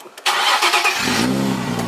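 A turnkey, manual-transmission sports car starts up. A brief click and starter whirr lead into the engine catching at about one second and settling into a loud, steady rumble.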